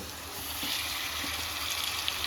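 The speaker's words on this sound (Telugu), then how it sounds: "తర్వాత వాటర్ యాడ్ చేసుకున్నాం" Continuous gushing stream of water pouring steadily into a pan, close and even, with no speech.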